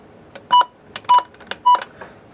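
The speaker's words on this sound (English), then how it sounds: "I like the button beeps on it." Three short electronic button beeps from a weather radio, evenly spaced about half a second apart, sounding close over faint clicks and handling noise.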